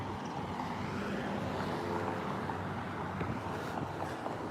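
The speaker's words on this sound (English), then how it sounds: "I hear a plane coming." An airplane passes overhead outdoors on a street, a steady broadband engine roar that holds constant and fairly loud throughout, with faint traffic noise around it.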